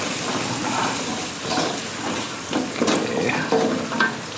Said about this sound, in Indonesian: jadi ini udah saya panaskan minyaknya. Mantap Bunda, kita tumis